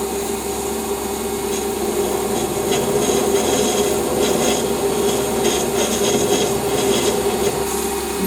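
Metal lathe taking a light skim cut off the back face of a Stuart Models S50 engine part, a continuous close scraping, rasping cutting noise that holds steady throughout with no talk.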